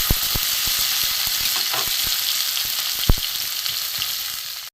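Lota (Bombay duck) fish frying in oil in a pan: a steady, close hiss of sizzling throughout, broken by sharp pops and crackles, one loud spatter near the end, with no talk.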